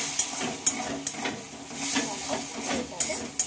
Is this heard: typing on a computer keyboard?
no